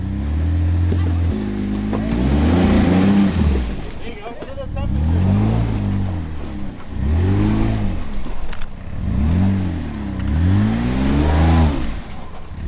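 An off-road vehicle engine revs hard on a muddy Tennessee trail hill climb, repeatedly surging and falling near the limiter in loud rising pulls, with a voice talking over it.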